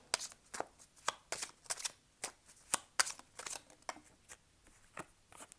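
A deck of tarot cards is shuffled close up, with a quick series of crisp riffling snaps and flutters at an irregular rhythm and no talking.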